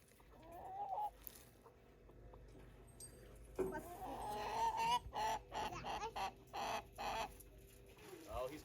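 Backyard chickens and a rooster cluck close by in a series of short, rhythmic bursts, the clucks growing busier in the second half, with quiet background noise and faint human sounds.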